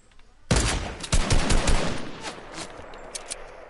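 Sniper rifle gunfire in a video game: a loud burst of rapid, overlapping shots and cracks starting abruptly, then a reverberant tail fading away with scattered distant pops.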